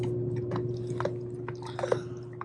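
Soft, irregular crunching as a dog chews a hard water buffalo chew, heard close up over a steady low hum.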